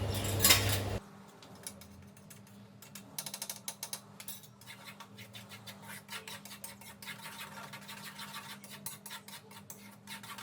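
Rava and besan laddu mixture being stirred in a pan on the gas, with repeated scraping, clinking and rubbing of a spoon against the metal in an irregular rhythm, close and fairly loud throughout.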